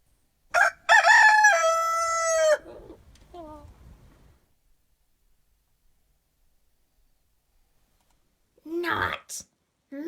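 A rooster gives one loud, close cock-a-doodle-doo crow with a trailing tail, followed by quiet, then a short burst of speech near the end.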